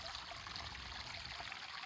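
Water streams steadily over a rock shelf at Ban Na Ang waterfall, a continuous broad rushing hiss that stays even and fairly close throughout, with no voices.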